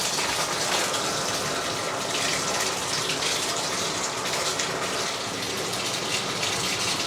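Hot water gushing steadily from a tap in an off-grid abandoned airport building, a loud, continuous broadband rush with no talk over it.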